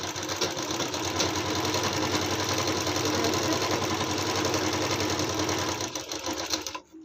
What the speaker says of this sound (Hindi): उसके बाद अब किनारे किनारे से सिलाई ऐसे ऐसे लगाना है